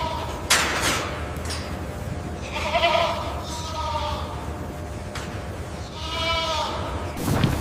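Goats on a commercial goat farm bleat a few times, with several drawn-out wavering calls at moderate distance over a steady background of barn noise and occasional knocks.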